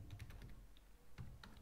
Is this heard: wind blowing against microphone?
no